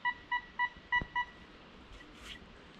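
A Golden Mask 4 WCL metal detector gives its signal over a buried aluminium coin: five short, clear electronic beeps in quick succession, then quiet with faint background noise.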